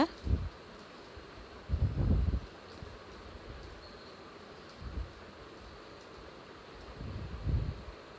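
Homemade fried kurkure tossed and shaken with spices, giving a few short, soft rustling bursts spaced a few seconds apart against a quiet background.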